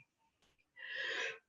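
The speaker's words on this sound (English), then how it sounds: "I have a lingering cough" A single harsh, breathy cough from someone with a lingering cough, loud and close, following a few faint breath sounds.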